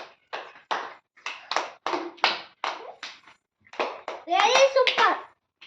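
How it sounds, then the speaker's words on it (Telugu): Children clap their hands in a quick, uneven series of about a dozen sharp, close slaps, with children's voices mixed in among the claps. "claps claps"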